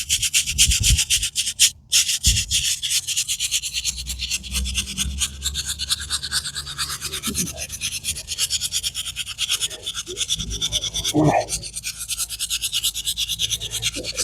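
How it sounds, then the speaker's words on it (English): A soft nylon-bristle brush scrubs a stone headstone in rapid back-and-forth strokes, close and continuous, with a few brief pauses and bumps. "This little brush here, it's a soft bristle, nylon bristle. So we're just gonna give that a scrubbing."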